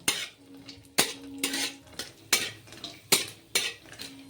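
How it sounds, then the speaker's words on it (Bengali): Chopped dry fruits are stirred in hot ghee in a pan, with sharp spatula knocks against the metal recurring every half second or so over a soft frying hiss. "কুচি করে রাখা ড্রাই ফ্রুটসগুলো ঘির মধ্যে দিয়ে দেবো এখন ঘির মধ্যে ভালো করে ক্রাঞ্চি করে ভেজে নেব"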